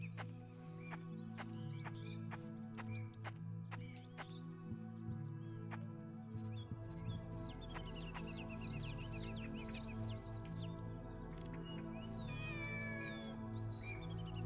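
A cat meows repeatedly in short, high cries over a steady low hum and faint background sounds, fairly close and alone without talk.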